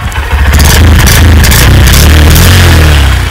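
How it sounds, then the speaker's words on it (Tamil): Exhaust of a Honda Shine BS6 motorcycle, heard up close as a loud, pulsing mid-pitched thrum with a clattery edge that rises slightly as the engine revs. "இது வந்து எக்ஸாஸ்ட் சவுண்ட்"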